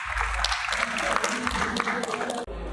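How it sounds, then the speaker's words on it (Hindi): Dense applause from an audience at a talk at IIT Kanpur fills the clip, steady and fairly loud, with a brief drop near the end as it cuts off. "आइए जोरदार तालियों से"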